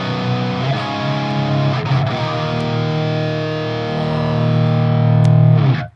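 Distorted electric guitar played live through an effects unit, mixing desk and mics, with sustained chords ringing loud and steady, briefly re-struck, then swelling before cutting off at the end.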